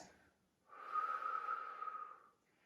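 A single audible exhale during a beginner Pilates exercise with a resistance band, a soft breathy rush lasting about a second and a half, close and quiet, with a faint breath before it.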